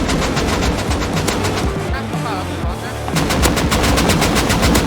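Rapid automatic gunfire in the video game Rust, loud dense bursts that pause briefly mid-clip and then resume, with players talking over the shooting.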